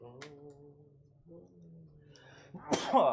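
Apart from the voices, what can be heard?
sneeze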